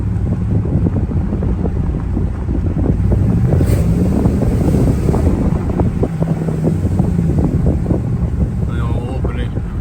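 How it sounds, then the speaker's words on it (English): Steady wind rush and low road rumble inside a moving car with its exhaust cutout closed, the exhaust nearly inaudible beneath the constant broadband wind noise. "Really can't hear anything, just wind."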